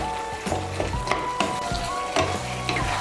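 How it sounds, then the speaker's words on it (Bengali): Chopped coriander and garam masala powder being stirred into a pan of Bengali chickpea ghugni, with a spoon scraping and clinking in bursts over a steady low sizzle. No one speaks. "গরম মশলার গুঁড়ো আর ধনে পাতা কুচিটাকে ভালো করে মিশিয়ে নেব।"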